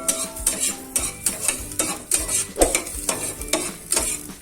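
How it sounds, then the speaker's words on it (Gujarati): Rice sautéed in ghee in a pan over a low gas flame for dudh pak: steady, close scraping strokes about twice a second over a soft sizzle, with no voices. "એક મિનિટ માટે આપણે ધીમા ગેસ ઉપર સાતડી લેવાના છે"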